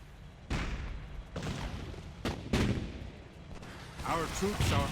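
Artillery booms and gunfire rumble through a World War II battle in the strategy game Blitzkrieg 3, with repeated heavy blasts over several seconds and a faint voice audible underneath.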